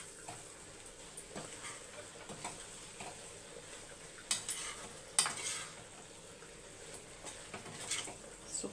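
A spoon stirs prawn fry in a pan with a soft, steady sizzle, punctuated by several sharper scrapes and clinks of the utensil against the metal.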